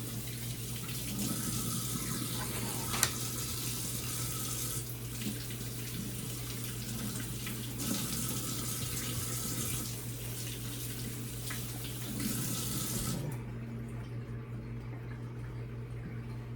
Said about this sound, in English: I have 3 sweet potatoes. I'm gonna wash them off real well.